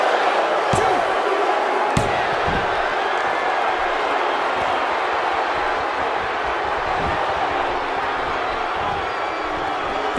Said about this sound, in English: These guys giving this sold-out crowd exactly what they came to see.